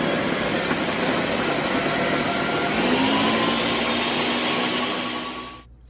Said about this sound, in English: I love Ninja blenders. These things can basically chop down any dang thing.